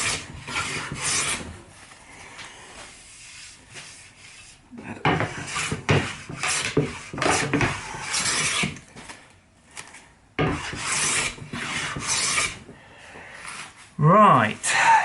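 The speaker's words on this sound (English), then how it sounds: "we've finally planed our timber all the way around, got our face side and face edges marked" Pallet wood timber is planed by hand, with repeated bursts of rasping, scraping strokes separated by short pauses, close by and fairly loud; someone speaks briefly near the end.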